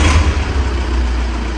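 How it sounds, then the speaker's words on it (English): A car engine idles steadily and loudly up close, a constant low rumble with no revving or speech, as a vehicle fitted with an RT12 radial hand control sits running. "So basically, we've got the car running,"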